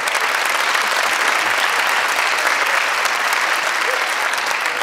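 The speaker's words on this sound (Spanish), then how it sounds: "No aplaudáis eso que está feo" A studio audience at a late-night comedy monologue applauds in a dense, loud, even wash of clapping that holds steady throughout.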